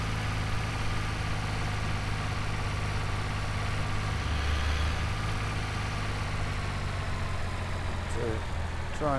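A farm tractor idles steadily through the whole stretch, a low continuous engine rumble with a faint voice or two underneath and a brief clank near the end.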